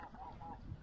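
Geese honking near a rainy kayak campsite, a few short nasal honks close together within under a second, faint and alone without talk.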